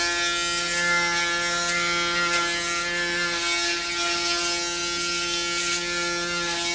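Braun Series 9 Pro electric shaver runs close by with a steady, high-pitched mechanical buzz and whine, its foil head rasping softly through stubble as it moves, continuous and even with no speech.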